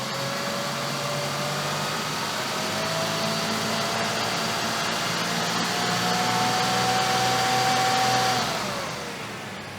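A car engine idles steadily, then its speed rises slightly and holds with a smooth, constant drone and faint whine before easing back down near the end, heard up close during an alternator test.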